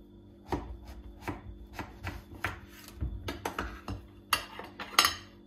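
Knife cuts through zucchini on a cutting board, a series of close, quiet chopping thuds and board knocks at an uneven pace.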